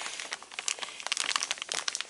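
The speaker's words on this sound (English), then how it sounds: "cover it with aluminum foil" Aluminum foil crinkled and pressed over a casserole dish of au gratin potatoes with ham and peas, a close, bright, continuous crackling with irregular sharp crunches throughout.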